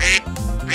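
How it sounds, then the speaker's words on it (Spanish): A duck quacks twice, a short bright nasal call at the start and another at the end, with a lower honking tone between them, loud and close, no talking. "¡Es un pato!"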